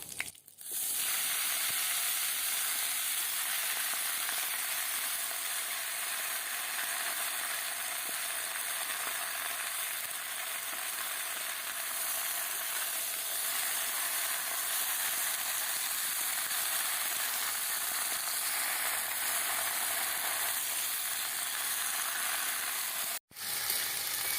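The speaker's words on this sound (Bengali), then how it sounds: "কেটে রাখা পালং শাক দিয়ে দেব" Spinach sizzles in hot oil with two dry red chillies and five-spice seeds. The frying makes a loud, steady hiss that runs without a break for over twenty seconds, then cuts out briefly near the end, with no talking.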